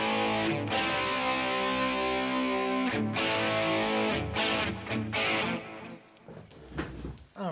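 An electric guitar played through an amplifier's distortion channel rings out in loud sustained, saturated chords with a few sharp strums, fading into quieter picked notes near the end.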